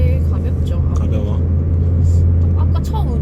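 A 2014 Hyundai Accent 1.6 base-trim car accelerating on a road in Guam, heard from inside as a loud, steady low engine rumble with people chatting over it.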